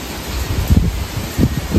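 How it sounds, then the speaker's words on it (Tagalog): Strong typhoon wind buffets the microphone in steady low rumbling gusts, swelling and easing over the short stretch with no voices. "Lakas ng hangin, guys. Nagsisimula na yung bagyo."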